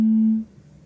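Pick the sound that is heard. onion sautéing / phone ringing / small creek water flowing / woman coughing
phone ringing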